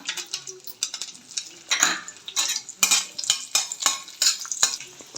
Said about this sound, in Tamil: அடுத்தது திராட்சை போடுறேன்.